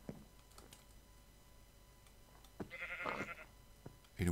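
A sheep in the video game Minecraft bleats once, a short wavering cry, near the end of a quiet stretch broken by faint clicks.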